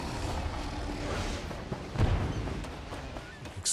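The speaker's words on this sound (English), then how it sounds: "Explosion, fireworks going off over here." Explosions and fireworks go off in the Elder Scrolls Online game world, a steady rumbling bed of booms with a sharper blast near the middle and another at the end.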